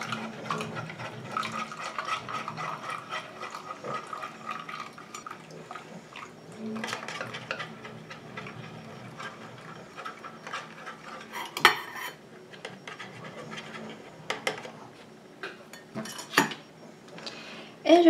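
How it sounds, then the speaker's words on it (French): A utensil stirs and scrapes in a container as a watery phase is mixed into melted oils for a homemade red-fruit body lotion, with soft clinks and sloshing and a few sharper knocks near the end. "je viens prendre ma phase aqueuse que je rajoute à ma phase huileuse tout en mélangeant"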